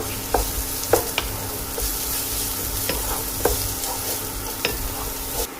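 Onions, green chillies, garlic, ginger and curry leaves sauté in a pan for a Kerala country chicken curry, a steady loud sizzle with several sharp scraping stirs of the spoon, close up and without talk.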